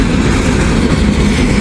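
A train passes on the tracks close by, a loud continuous rumble filling the whole brief moment with no voices.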